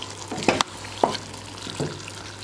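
A Ghanaian garden egg and egg stew simmers and fries in a pan, a soft continuous sizzle broken by a few sharp stirring scrapes and clanks close by.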